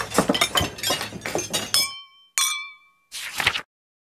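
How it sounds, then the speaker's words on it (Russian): Several bright glassy clinks of dishes ring out one after another, each leaving a short shimmering tail, with a brief pause before a final cluster of clatter. "Посуда звенит."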